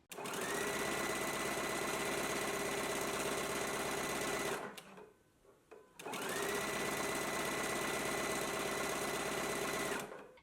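A sewing machine running a zigzag stitch along skirt side seams, a loud, close, steady whirring drone that stops briefly for about a second midway before resuming at full speed, with no voices.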